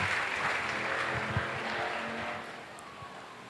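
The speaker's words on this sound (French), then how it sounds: "Clap offerings next." Congregation applause during a Sunday worship service at a church in Abidjan, a dense steady roar of clapping that fades somewhat toward the end, with no talk over it.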